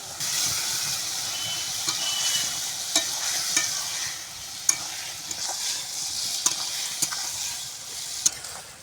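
New potatoes frying in oil with cooked-down spice paste for a vegetarian aloo dum, a loud, steady hiss and sizzle close up, with occasional sharp clicks of a spatula against the pan.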